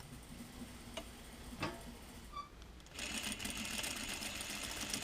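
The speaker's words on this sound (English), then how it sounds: "So now I will stitch it down." A sewing machine stitches slippery pant fabric for a Vogue 9155 pocket facing, starting after a few soft ticks into a steady, close mechanical whir and rapid needle clatter that runs to the end.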